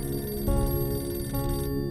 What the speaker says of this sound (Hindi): ये किस शो का फोन होगा?